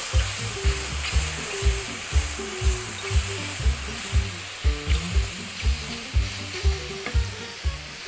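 Shallots frying in a pan, a loud dense sizzle with a quick regular pulse of stirring or tossing throughout, close and steady.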